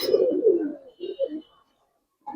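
Pigeons coo in short throaty bursts, close and clear, with a brief pause before another coo starts at the end; no one speaks.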